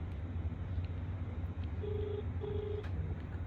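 A phone call is dialed back, heard as two short steady tones over a constant low rumble, like traffic or a running vehicle, with no talk.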